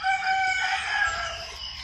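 A rooster crows loudly and close by, one long drawn-out call with a few clucks mixed in, and no one speaks.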